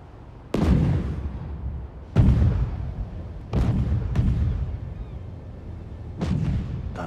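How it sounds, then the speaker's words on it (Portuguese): Fireworks explosions in the video game Spider-Man 2: five heavy booming bursts at irregular intervals, each trailing off in a rumbling decay, loud and without speech. "Tá meio cedo pra fogos."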